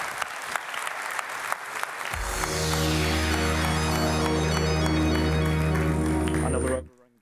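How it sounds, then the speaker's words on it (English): Audience applause at a live-streamed talk as the speakers walk off, scattered claps at first, then masked beneath a loud sustained musical tone that swells in and cuts off at the end. "give them another round of applause so they can walk off"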